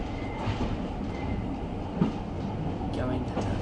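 Heritage steam railway train on the East Lancashire line between Rawtenstall and Bury, rolling steadily along the track at a curve with a continuous rumble and clatter of wheels, a faint squeal near the end.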